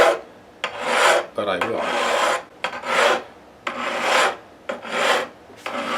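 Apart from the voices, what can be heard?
metal file gliding along guitar frets, Fender American Stratocaster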